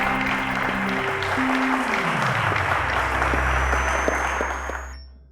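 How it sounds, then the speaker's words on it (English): Studio audience applauding on a televised quiz show, a steady burst of clapping that holds for about five seconds before cutting off, loud and close. "A round of applause to Olajide and Oluwayomi"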